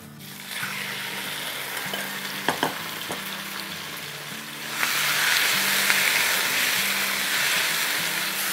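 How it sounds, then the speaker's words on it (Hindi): Chilies sautéing in hot oil for a chicken pepper steak stir fry, a continuous loud sizzle with a few sharp utensil clicks, swelling brighter and louder partway through, with no one speaking. "अब हम इसको थोड़ा सा सौटे कर रहे हैं ताकि हमारा ऑयल जो है वो तेज़ हो जाए"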